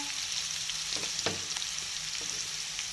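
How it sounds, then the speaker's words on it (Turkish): Chickpeas are being stirred in a hot pan with chili flakes, cumin, paprika, curry powder, black pepper and a little salt, giving a steady close sizzle with a few soft scraping strokes of the spoon. "Şöyle nohutlarımızı karıştırıyoruz"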